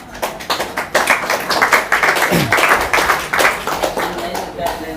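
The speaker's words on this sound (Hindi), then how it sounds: "डायरेक्ट सेलिंग संस्था के लिए हम एक जोरदार ताली चाहेंगे।" An audience at a direct-selling talk claps loudly on cue, with dense, continuous clapping that swells and holds steadily, and some voices mixed in beneath.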